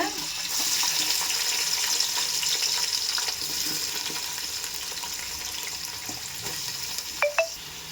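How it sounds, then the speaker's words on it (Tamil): Onions sizzling in hot oil in a pan with cinnamon and cardamom for a vegetable biryani, a steady close frying hiss throughout with a few light clinks near the end. "வெங்காயம் போட்டுக்கலாங்க."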